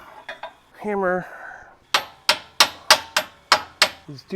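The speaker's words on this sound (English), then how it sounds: "Hammer." A hammer strikes a stamped metal bracket during a lift kit install on a Jeep Rubicon 392, about eight sharp, close, ringing blows at a steady rhythm after a brief spoken word.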